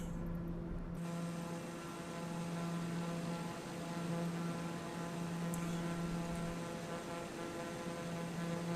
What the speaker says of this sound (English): Yes, now I'm flying the plane.